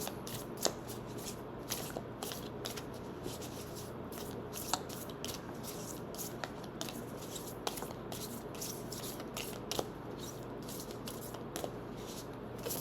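Tarot cards are shuffled by hand in close, quiet, repeated riffling bursts with soft clicks and snaps as cards are cut and dealt into piles, steady throughout and without talk.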